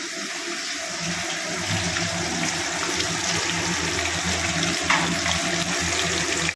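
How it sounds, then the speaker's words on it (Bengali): Tap water pours steadily into a sink as fish is rinsed, a continuous broad rush with faint clatter underneath and no talking. "চলো ধুয়ে নি মাছটা।"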